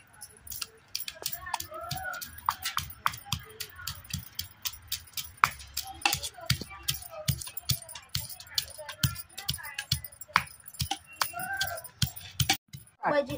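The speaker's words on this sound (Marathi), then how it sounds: "त्याच्यासाठी लसूण, आलं आणि मिरची चेचून घ्यायची" Garlic, ginger and chili are crushed for thecha in a village kitchen, giving a long run of sharp, rapid pounding knocks up close, with faint voices in the background.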